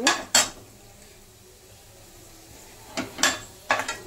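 Plumped raisins for Navratri dry laddus are scooped from a pan onto a plate, a few sharp metallic clinks and scrapes of a spoon against the cookware, close and separated by quiet pauses.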